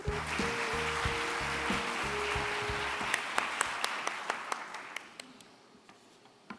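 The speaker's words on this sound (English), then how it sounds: "please join me in welcoming him with a big round of applause" Audience applause at a summit closing session swells under fading music, then trails off into a handful of scattered, distinct claps before dying away.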